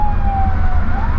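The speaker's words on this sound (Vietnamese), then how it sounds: "Xe cấp cứu mình nhường cho xe cấp cứu đi trước đi." An ambulance siren wails steadily and loudly on a highway, its pitch sliding slightly over heavy low road and engine rumble, with no talk.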